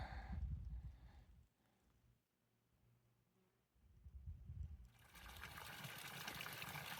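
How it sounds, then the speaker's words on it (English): Cold spring water gushes out of a pipe along the Pacific Crest Trail in Oregon, loud at first, then quieter and trickling for a few seconds before a strong, close splashing flow returns. "There's a lot of water coming out of the pipe, and it is very, very cold, like super cold."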